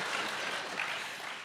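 Audience applause at a Tamil comedy debate, a steady dense clatter of many hands clapping, loud and continuous throughout with no talk over it.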